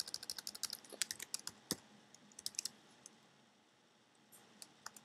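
Typing on a computer keyboard: quick clusters of sharp, faint keystrokes, then sparser single taps, close and alone.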